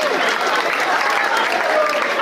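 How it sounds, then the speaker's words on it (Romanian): Festival audience applauding at Proetnica 2023 in Sighișoara, a dense, steady wash of many hands clapping together, loud and sustained for the whole stretch with no gaps. "Aplaudați!"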